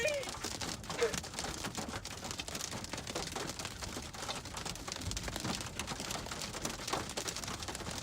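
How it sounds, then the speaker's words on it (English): Hail pours onto a car during a storm near Martinsburg, a dense, steady patter of impacts that holds from start to finish, with faint voices underneath. "Got a ton of hail falling."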